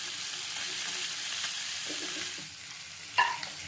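Whole fish coated in masala fries in a pan with a soft continuous sizzle, then a brief sharper spatter near the end, heard close with no talking.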